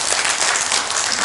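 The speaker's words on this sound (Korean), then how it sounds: "힘찬 박수 부탁드립니다" Audience at a selection ceremony claps for the judges, dense, loud applause filling the whole moment without pause.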